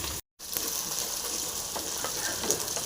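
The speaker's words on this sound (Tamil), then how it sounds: "நல்லா ஃப்ரை ஆகட்டும்." Onions frying in a pan for a yam kara kuzhambu, giving a steady, close sizzle with small crackles throughout, interrupted by a brief silent gap near the start.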